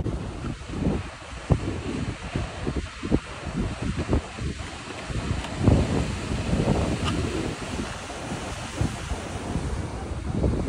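Ocean surf rolling and crashing steadily on the Atlantic coast near Nazaré, with strong wind buffeting the microphone throughout, a continuous loud roar with no talk.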